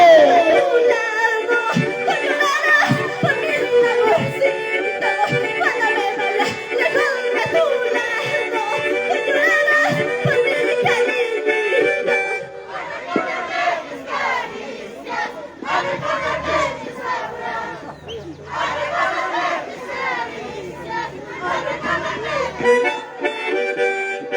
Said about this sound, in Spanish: que vengan los aplausos